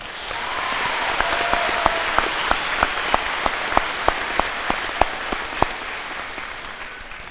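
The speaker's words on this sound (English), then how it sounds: "let's make sure that we give a round of applause to Kaven Hunter and Shelby Quinn." At a Lindsay High School graduation ceremony, a crowd gives a round of applause. Sharp, evenly spaced claps from one nearby person ring out above a steady wash of clapping from the rest.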